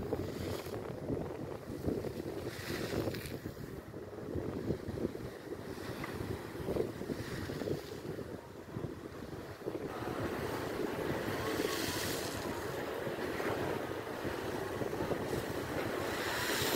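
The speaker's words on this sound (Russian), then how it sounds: "На море небольшой шторм." Stormy Black Sea surf at an Odessa beach, with waves crashing steadily and gusty wind buffeting the microphone, loud and continuous, swelling in the second half.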